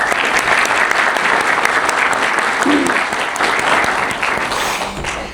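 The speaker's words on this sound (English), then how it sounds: "Let's give our family a round of applause." Sustained audience applause at a youth services officer graduation ceremony, many hands clapping steadily and fairly close, tapering off slightly near the end.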